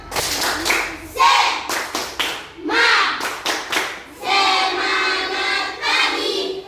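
A class of students doing a rhythmic spirit clap together in bursts, with sharp patterned hand claps and short group shouts between them, loud and close in a classroom.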